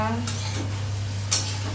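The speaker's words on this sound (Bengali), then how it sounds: "সটে করব" Tomatoes sizzle in a hot pan while being stirred, a steady frying hiss under a low hum, with two sharp scraping strokes of the spoon against the pan.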